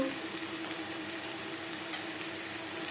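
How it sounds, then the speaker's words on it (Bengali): Onion stirred with ginger and green chili paste in a frying pan for a fish roe and eggplant curry, a steady close sizzle with light scraping strokes and one sharper clink of the utensil. "পেঁয়াজের সাথে আদা ও কাঁচা লঙ্কা বাটা বেশ ভালো করে মিক্স করে দেবো"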